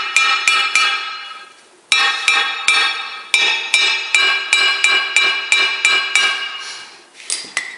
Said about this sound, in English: I can get some of these thick pieces broken with the hammer